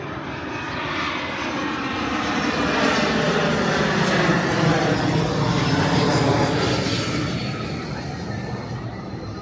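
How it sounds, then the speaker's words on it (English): A plane passes directly overhead above a street in Woodside, Queens, New York City, a loud broad engine roar that swells to its peak near the middle and slowly fades, heard alone with no talk. "I got this plane going right over us"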